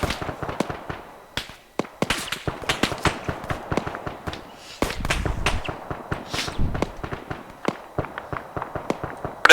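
Fireworks inside the ArmA 3 military shooter, during a raid on the Utes airbase: a dense, irregular crackle of sharp pops and bangs fills the scene, some bursts loud and close with deeper thumps mixed in, and no talk over them.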